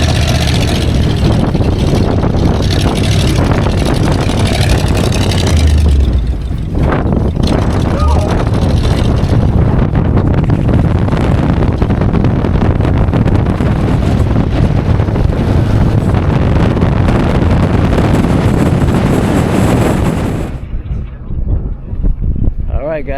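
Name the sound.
open-air dune buggy driving over sand dunes, wind rushing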